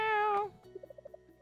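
In the farming video game Coral Island, a cat gives one clear, close meow, followed by a string of soft, short game chimes.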